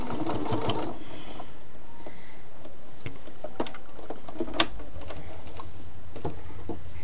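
Sewing machine stitching a cloth doll, running in a steady fast mechanical whirr with rhythmic ticking of the needle, close and continuous throughout, with a few small clicks and handling sounds.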